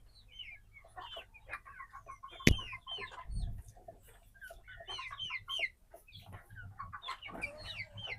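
Chickens on a desi poultry farm suffering from CRD respiratory disease, making repeated short clucks and raspy sounds, close and fairly quiet, with a sharp click partway through and low background rumble.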